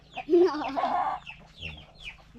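A chicken gives a short run of clucks, close and fairly loud, then quieter scratchy sounds follow.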